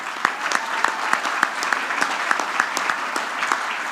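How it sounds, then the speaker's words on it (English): Banquet audience at a Rotary club 100th anniversary celebration applauding the members, steady close clapping with distinct individual claps standing out in a fairly regular rhythm throughout. "I'd like to give you guys a round of applause."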